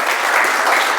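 A church congregation bursts into full, even applause, a thick and steady roar of many hands clapping with no voice on top.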